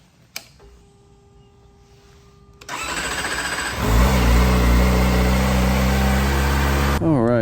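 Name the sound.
Kawasaki ZX-4RR motorcycle engine starting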